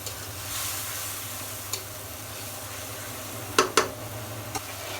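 Spice masala with ground dried chilli, green chilli paste and split chillies fries in a pan with a steady low sizzle, punctuated by a few sharp clacks of a spoon stirring against the pan.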